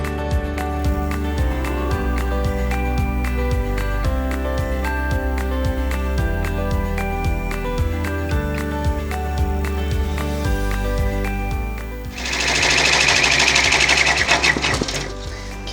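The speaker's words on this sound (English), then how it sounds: "put it back into the machine and we're going to run a tack down stitch for this" An embroidery machine stitches a tack-down line for a glasses case lining, its fast steady needle rhythm loud and close throughout, with a brief change in pitch and texture near the end.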